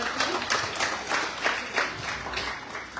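An audience at a poetry recitation contest applauds to welcome a guest, a moderately loud, continuous patter of many hands with gentle swells, heard alone without speech.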